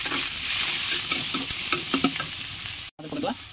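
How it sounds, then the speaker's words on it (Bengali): Chopped onions fry in hot oil in a kadai for a masala chicken curry, with a steady close sizzle and a few stirring scrapes and clinks partway through, a brief gap, then more stirring. "তারপরে কটাই দেবা পেঁয়াজ।"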